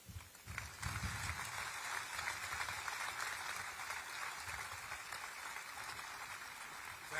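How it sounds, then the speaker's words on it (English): A crowd applauds at a military ceremony re-designating Fort Benning as Fort Moore, with sustained, fairly distant clapping that rises after a second and continues steadily throughout. "Would you please join me in a round of applause for all of them?"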